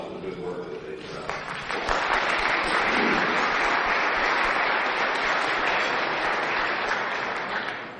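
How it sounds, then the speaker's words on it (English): Murmuring from a room at a breakfast event gives way to dense, sustained applause from the audience for the staff, loud and steady for several seconds before it begins to fade. "I'd like to ask the staff to stand and receive a round of applause for the good work that they've done"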